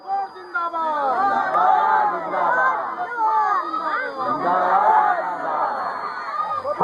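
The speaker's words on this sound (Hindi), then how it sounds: "आज भीड़ इकट्ठा हुई है कोल समाज के लोगों की और आदिवासी समाज के लोगों की" Crowd of Kol and tribal community people gathered at an anti-drug awareness rally, a dense babble of many voices with shouts and calls rising and falling, close and continuous.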